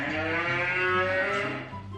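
One drawn-out cattle moo played back as a guess-the-sound recording, loud and close with a rich, steady harmonic tone that fades at the end.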